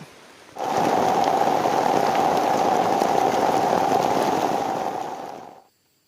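Steady rain pours down loudly on a surface, starting abruptly and holding a constant hiss for several seconds before cutting off.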